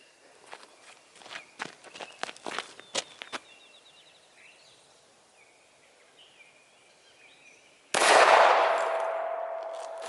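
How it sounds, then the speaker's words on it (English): A single .45 ACP round fired from a Glock 21 pistol into soft body armor: footsteps crunch nearby first, then after a quiet pause one sharp, loud outdoor gunshot cracks and rings out with a long decaying echo. "up next, we got 45 ACP out of my Glock 21. Let's take a shot."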